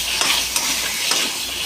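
Spices frying in a pan for a vegetable curry, a dense, close sizzle with short scraping strokes as they are stirred, brief and loud with no talking.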